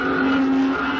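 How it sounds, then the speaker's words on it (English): Street traffic sound effect from an old-time radio comedy broadcast: a steady, continuous engine drone with a sustained tonal hum, loud and close, with no voices over it. "And the traffic was something terrible."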